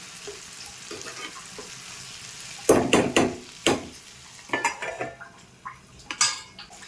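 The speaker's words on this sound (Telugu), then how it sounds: "కొంచెం ఈ ఆయిల్లోనే బాగా మగ్గిపోవాలన్నమాట ఇది." Tomato and onion curry cooking in oil in a pan, a faint, steady sizzle broken by loud clanks and scrapes of a metal spoon stirring against the pot.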